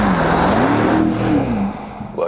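A BMW X5 M50i with its 4.4 liter V8 in sports mode revs loudly and steadily, the pitch rising and falling before the engine note fades out.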